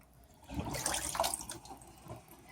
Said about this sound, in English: So I'm going to drain it